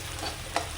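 Peanuts, carrot and onion sizzle and crackle in a pan for upma, with a brief scrape of stirring near the end of the short burst.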